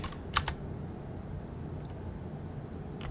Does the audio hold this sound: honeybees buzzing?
no